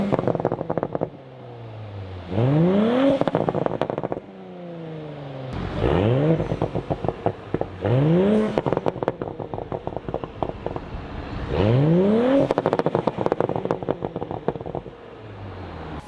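An Audi B9 EA839 V6 with a VariSpec exhaust crackle tune revs repeatedly, each rise in engine pitch followed by a rapid string of sharp pops and crackles on the overrun, heard close and loud.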